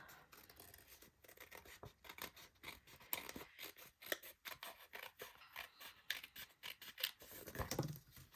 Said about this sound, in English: turn it over and trim the excess off, just following the line of the envelope